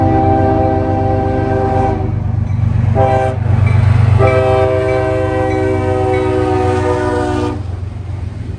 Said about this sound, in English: We got a CSX train coming.